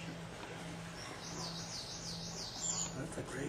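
A chestnut-crowned laughingthrush calls in forest at Doi Inthanon National Park, Thailand, giving a short run of rapid, rising-and-falling whistled notes at moderate distance over steady background hum.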